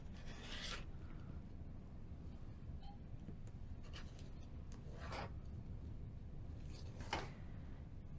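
Quilt block unit being trimmed, a few quiet rasping cuts and scrapes of fabric against a cutting surface, brief and soft, without talk.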